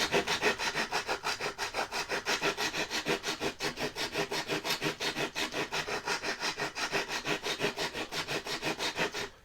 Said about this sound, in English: So I'm just taking this file, kind of the rough side,